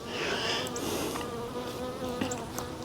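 Honey bees hum around an open hive during a hive check, a close, continuous swarm of buzzing with a few individual bees swelling louder as they pass near, no talking.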